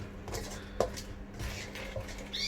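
Egg being mixed into hot sauce in a pan, faint light clinks and scrapes of a utensil against cookware, quiet and sparse over a steady low background hum.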